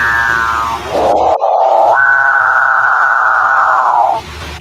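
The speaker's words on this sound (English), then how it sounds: "Capuchin bird." A capuchinbird call: one loud, drawn-out moaning drone that holds steady for several seconds, then cuts off, with no talk.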